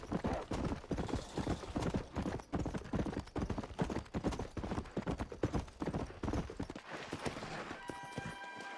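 Horse hooves clip-clop in a fast, steady galloping rhythm while riding in the video game Red Dead Redemption, crisp and close, fading near the end.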